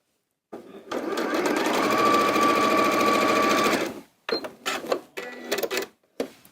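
A sewing machine stitching quilt block pieces together runs in one loud, close burst of rapid whirring for about three seconds, then gives several short stop-start spurts.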